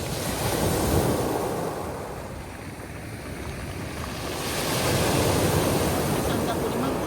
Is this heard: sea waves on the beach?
yes